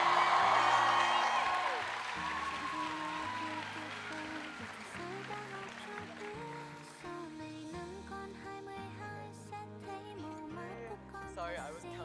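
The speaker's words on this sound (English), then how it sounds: "one big round of applause for our coordinator" Audience applause and whoops at a university Vietnamese culture night stage performance, loudest at first and tapering off as music with sustained tones takes over and continues beneath.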